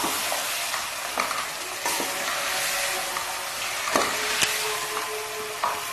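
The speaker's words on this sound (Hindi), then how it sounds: "अब इसको 5 मिनट के लिए भून दूंगी" Wadiyan, sun-dried lentil dumplings, sizzle steadily in hot oil in a pan, a dense close hiss with occasional sharp spatter pops and light stirring scrapes throughout, no voices.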